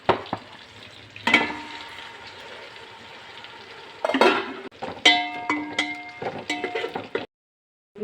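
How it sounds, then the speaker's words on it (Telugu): Fish pieces frying in a pan for fish biryani, with a steady close sizzle broken by clanks and scrapes of a utensil stirring against the pan, ending in brief silence. "ఈ విధంగా గట్టిగా ఫ్రై అవ్వాలండి, ముక్క చెదరదనమాట."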